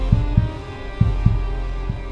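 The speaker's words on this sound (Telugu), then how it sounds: "గుండె చప్పుడు సడన్గా చాలా ఎక్కువైపోయాయి" A deep, thudding heartbeat effect pulses in quick pairs over a low steady hum.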